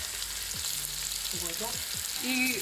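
Jamon sautes with sazon con achiote and culantro for arroz con gandules, making a constant close sizzle with a few quick scraping stirs, with a faint tonal squeak near the end.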